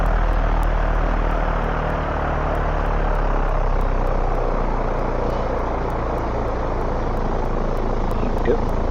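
Steady, loud propeller-aircraft engine drone from the X-Plane flight simulator as the plane sits ready for takeoff, a continuous hum holding throughout with a voice talking over it.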